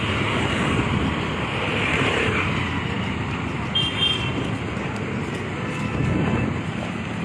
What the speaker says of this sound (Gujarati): અહીંયા જે તૂફાની જે પવન છે તે ફૂંકાઈ રહ્યો છે